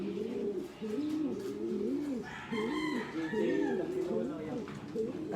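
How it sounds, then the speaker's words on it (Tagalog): Many pigeons in a loft coo continuously in overlapping, rolling low calls, close and steady throughout, with no talking. "Kita nyo naman, napakadami kalapate."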